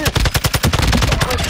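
A rapid burst of automatic gunfire from Call of Duty Warzone on Ashika Island, loud and close, with evenly spaced shots rattling into a dense volley.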